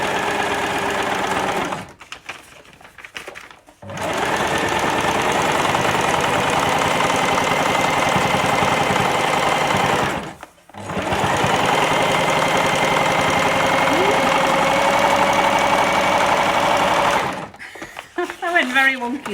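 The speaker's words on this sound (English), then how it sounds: "we're going to flip over and we're going to stitch that line." Domestic sewing machine stitching a foundation paper pieced quilt block for a house design, a steady close mechanical whir in long runs broken by two short pauses, with a voice talking faintly over it.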